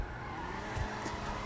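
A car in a video game skids with a faint tire squeal over a low engine rumble, brief and continuous, with no talking.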